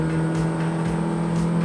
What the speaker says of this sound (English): I love the sound of the exhaust and the lack of sound deadening.